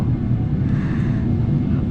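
An airplane taxiing at an airport gives a steady, loud low-pitched rumble with a broad engine roar that holds evenly throughout, with no voices.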